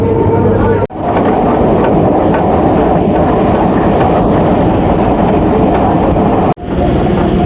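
A local passenger train leaves Nabadwip Dham station in the morning, its steady, loud rumble and rattle of wheels on the tracks filling the whole stretch, with two brief dips where the noise drops out for a moment.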